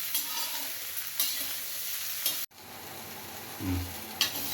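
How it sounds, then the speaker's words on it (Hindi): Mixed vegetables with peas fry in a pan and are stirred, a constant close crackling sizzle marked by a few sharp spatula scrapes and a brief cut-out in the middle, with no voices. "और इसे 5 मिनट थोड़ा फ्राई करेंगे ताकि इनमें सब्जियों को कच्चापन निकल जाए"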